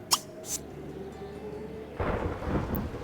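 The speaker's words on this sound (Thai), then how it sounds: "นี่ฝนตกซะละ นี่นะคะฟ้าร้องเอฟเฟกมาเต็มนะคะ" Thunderstorm weather effect from the mobile game The Sims FreePlay: a couple of crisp cracks open it, then a low rumble of thunder with a steady hiss of falling rain swells in the second half.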